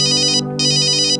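A mobile phone rings with an incoming call, a loud electronic ringtone in two bursts with a short gap between them, close and alone.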